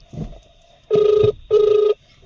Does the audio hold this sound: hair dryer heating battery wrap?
no